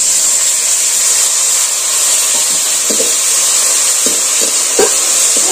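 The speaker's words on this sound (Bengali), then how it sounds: "এবার আমি একটু অল্প জল দিয়ে দিচ্ছি।" Water poured into a hot pan of cauliflower and mackerel curry, a strong steady hiss and sizzle with scattered clinks of stirring near the close.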